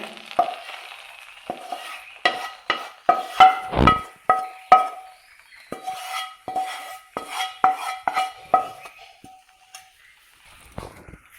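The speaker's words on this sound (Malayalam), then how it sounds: "മസാല ചേർത്തിട്ട് എല്ലാം കൂടി നല്ലപോലെ ഒന്ന് ഇളക്കി കൊടുക്കുന്നുണ്ട്" Prawn masala being stirred in a metal pot for prawn biryani: sharp, close spoon scrapes and clinks against the pot come in irregular bursts over a faint sizzle, with no talking.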